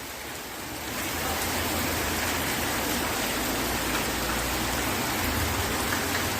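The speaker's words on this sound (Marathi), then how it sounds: "आता धो धो पाऊस पडायला लागलाय." Heavy monsoon rain pours down in a dense, steady hiss that rises after the first second and stays full and even, with no voices.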